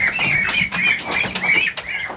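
Muscovy ducks on a duck farm give a run of repeated low, husky calls, loud and close, overlapping one another with no talk.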